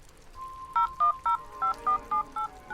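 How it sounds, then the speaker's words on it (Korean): A telephone keypad sounds as a number from a business card is dialed: about nine quick, evenly spaced beeping tones in a steady rhythm, clear and close, with no voices. "명함에 나와 있는 번호로 전화를 걸었습니다"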